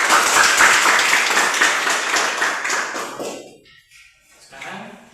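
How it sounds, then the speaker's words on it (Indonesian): Classroom audience claps for a student group, dense rapid applause that fades out over a few seconds, followed by a short quiet stretch and a faint voice. "silakan untuk tepuk tangan kelompok 4"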